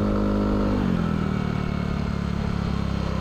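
A Yamaha Aerox scooter fitted with a K'RACE standard racing exhaust revs up, its engine note rising steeply within the first second and then holding a loud, steady high-rpm drone, close by with no talking.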